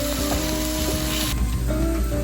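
Ground beef sizzles loudly and steadily as it fries in a pan while being broken into tiny pieces for a fully loaded lasagna, with a constant dense crackle throughout.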